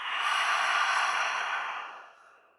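A single long, deep cleansing breath let out through an open mouth, a breathy whoosh close to the microphone that swells quickly, holds, then fades away over about two seconds.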